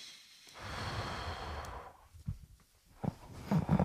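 A slow, deep breath drawn in, heard as a soft, sustained airy rush for about a second and a half, then quiet broken by faint breathy movements and light bumps.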